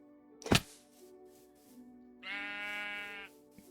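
Sheep in the Minecraft video game give a single clear bleat after a sharp thump, the bleat harmonic and about a second long, close and distinct against near silence.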